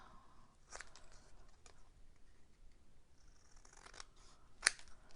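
Scissors cut freehand close around stamped card images, making a few faint, soft snips and crisp clicks in a quiet room. One sharper snip stands out near the end.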